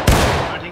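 A single sharp musket shot cracks out in the Civil War video game War of Rights, a loud close report with a fading tail.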